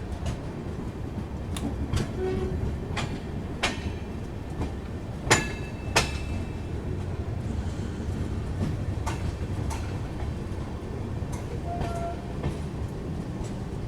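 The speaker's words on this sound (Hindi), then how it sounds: "ऑन टाइम 4:45 से अपनी ट्रेन निकल चुकी है ललित ग्राम रेलवे स्टेशन के प्लेटफॉर्म नंबर" A Rajyarani Express passenger train pulls out of Lalitgram railway station, heard from inside a coach as a steady low rumble with rhythmic wheel clacks and a few sharp metallic knocks, with faint voices in the background.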